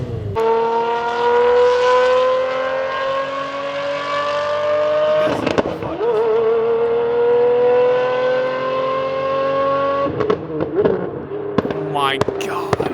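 A Ferrari engine revs hard, its rising harmonic tone climbing in repeated pulls with brief gaps between, then fading as it drives away, loud and sustained over about thirteen seconds with crackling bangs near the end.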